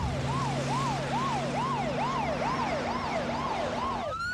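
A Scottsbluff fire rescue emergency vehicle runs its siren in a loud, close, rapidly repeating rising-and-falling wail over a steady engine drone, shifting to a different siren tone at the very end.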